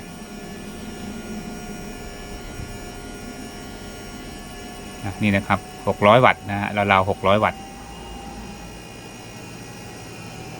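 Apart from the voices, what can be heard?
noisy cooling fan of a 1000W grid-tie inverter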